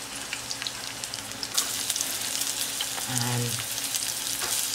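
Five garlic cloves fry in a pan with a continuous, close sizzle and occasional crackles, while a brief low voice hums underneath.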